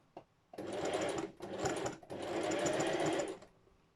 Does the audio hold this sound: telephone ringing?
no